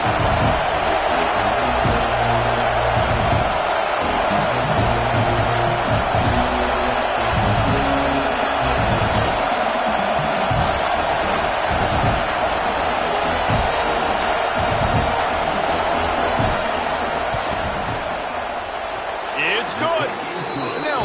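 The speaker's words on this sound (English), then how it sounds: "This crowd trying to do its part to get inside the kicker's head." Loud football stadium crowd at a Michigan vs LSU game roaring steadily as the field goal team lines up, a dense continuous wall of noise with a commentator talking over it.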